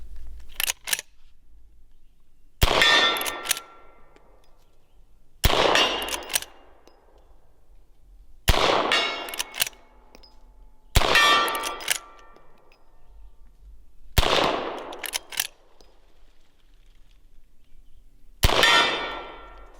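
A Henry 1860 Classic lever-action rifle chambered in .44-40 fires seven sharp, loud shots at steel targets, each crack followed by a ringing clang and a short decay, spaced a few seconds apart with quiet gaps between.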